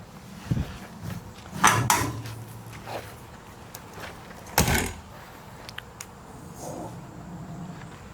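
A few clunks and a latch-like knock as slide bolts are undone, then a heavy thump as a tiny camper's whole back wall swings open, with faint rattles afterward in a quiet space.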